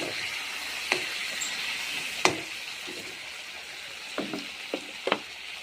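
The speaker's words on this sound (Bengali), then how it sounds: "ভালো করে কষাতে হবে।" Mutton and potatoes being sautéed in a pan: a quiet, steady sizzle and hiss with occasional scraping clinks of a spoon stirring, and no talking.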